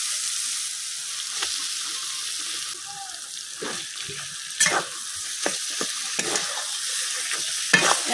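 Taro leaves being stirred and fried into spiced masala in a village kitchen, a constant close sizzle broken by irregular scraping strokes of the spoon, a few louder clacks toward the end.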